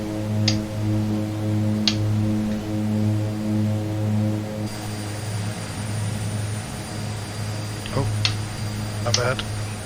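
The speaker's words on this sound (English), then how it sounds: "Let's see what happens if I kill the engines." Twin Otter propeller engines in Microsoft Flight Simulator 2020 drone steadily with a pulsing hum, then wind down and fall away partway through, leaving quieter rumble and clicks.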